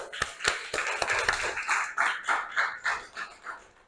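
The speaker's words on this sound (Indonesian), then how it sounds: "Kasih aplaus buat Seventeen" A classroom of students applauds a classmate: a few sharp early claps grow into a short burst of rhythmic group clapping that fades after a few seconds.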